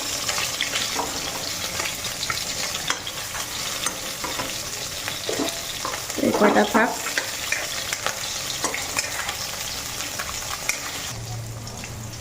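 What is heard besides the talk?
fish frying in oil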